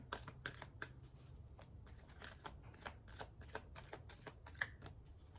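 Tarot cards being shuffled by hand, a quick run of crisp riffling snaps and slides in an irregular rhythm, close and fairly quiet with no talking.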